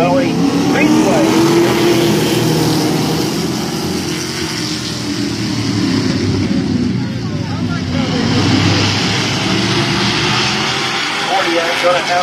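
Street stock race cars idle and rumble at Midvale Speedway before a heat goes green, a loud, continuous engine drone with a PA announcer talking over it throughout.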